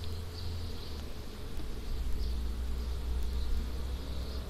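Honeybees flying around an open hive during an inspection: a steady, close insect buzz that hums continuously throughout, with the drone of many wings at once and no talking.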